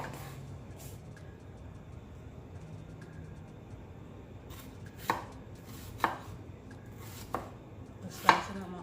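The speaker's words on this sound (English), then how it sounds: "Slicing up my onion, thin slice also." A knife slices an onion thinly on a cutting board while making Jamaican fried cabbage, with soft faint cuts early on and then four sharper, louder chops spaced about a second apart.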